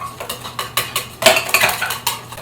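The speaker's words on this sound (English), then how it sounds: "Whisk it together. Like my whisk, it's just a knife." A knife used as a whisk rattles and clinks quickly against a bowl while meatloaf glaze is mixed, giving a rapid, uneven series of close metallic taps and scrapes.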